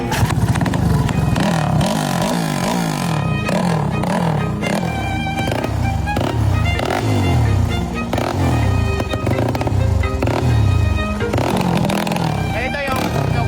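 A motorcycle fitted with a Kvin exhaust pipe revs repeatedly up and down close by, loud and throaty with a rising and falling pitch. Voices can be heard faintly underneath.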